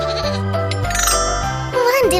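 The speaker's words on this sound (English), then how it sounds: "A big goat and a little goat." Goats bleating in a children's farm-animal cartoon, a big goat and a little goat giving wavering musical bleats over a light tinkling tune, the higher bleat rising at the end.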